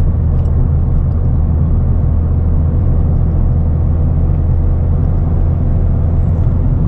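A Ford Fiesta ST200 hatchback drives along with a steady, close engine rumble and road noise, constant throughout with no voices.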